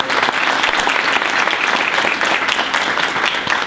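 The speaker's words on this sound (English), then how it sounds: "Please give them a round of applause." Audience applauding a construction team at the grand opening of Poole's Mill, a dense, steady round of clapping close and loud with no talk over it.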